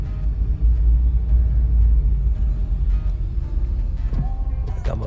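A wrecked Honda Civic Type R FL5, tie rod repaired, heard from inside on its first drive: a steady, close engine and road rumble with a low drone throughout and a few faint knocks near the end.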